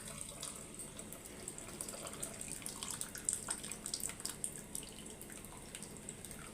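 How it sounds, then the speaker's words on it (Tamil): Mushroom soaking water is poured into a hotel-style mushroom gravy, giving a faint, continuous trickling and splashing with small drip-like spikes throughout. "இப்போ அந்த மஷ்ரூம் தண்ணியை மட்டும் ஊற்றிக்கலாம்"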